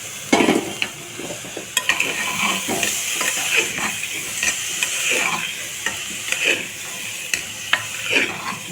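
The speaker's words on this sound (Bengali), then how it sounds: "মশলাটা কষে নিতে হবে" Spice masala for egg tarka fries in a pan with continuous sizzling, broken by frequent quick scrapes and clinks of a spatula against the metal. No speech.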